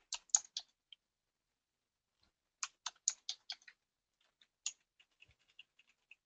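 Bursts of keystrokes on a computer keyboard, quick clusters of clicks separated by pauses, close and fairly quiet with no voices.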